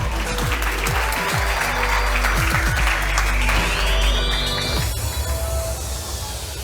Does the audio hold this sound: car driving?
no